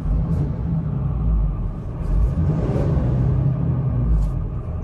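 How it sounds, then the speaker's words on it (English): A 2022 Ram 5500 crew cab chassis 4x4 truck with its diesel engine idling, a steady low rumble close by with a faint hiss of spray during a regeneration cycle. "right now I just got the truck running"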